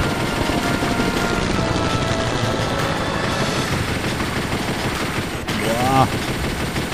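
Rapid cannon fire in the video game Chase the Express, a dense, continuous loud barrage with a brief pause near the end, a short word spoken over it.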